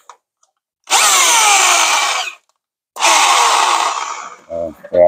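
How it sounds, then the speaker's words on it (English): A small air-powered pneumatic jigsaw cuts a hole for a fifth-wheel hitch, in two loud, close, steady bursts of buzzing cutting separated by a pause, followed by a few short low knocks. "I got a little air pneumatic saw,"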